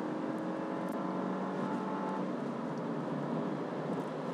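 A turbocharged Mercedes C180 in Sport Plus mode pulls in third gear at about 100 km/h, its engine a steady, moderately loud drone heard from inside the cabin with no talk over it.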